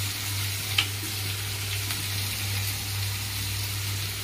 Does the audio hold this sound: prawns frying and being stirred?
yes